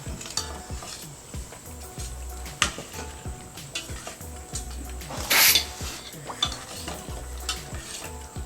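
A ladle stirs egg masala gravy in a pot at close range, with repeated scraping strokes in a steady rhythm over a soft sizzle. A louder scrape or clatter stands out near the middle, and no one speaks.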